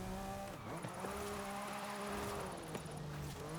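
Engine drone of a car racing in the video game Turbo Rally, a steady buzzing note that climbs and drops with gear shifts, continuous and fairly loud throughout.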